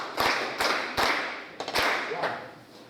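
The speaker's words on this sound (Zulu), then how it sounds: "Andike nimshayele ihlombe uNyambozi." Church congregation at a Zion church service clapping for Nyambozi, a few separate sharp claps and taps spaced about half a second apart, close and fairly quiet.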